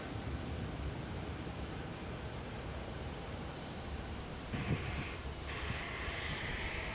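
A departing airliner at San Diego's airport roars as a steady, broadband engine rumble that holds throughout, with a brighter high whine swelling briefly near the end; no one speaks.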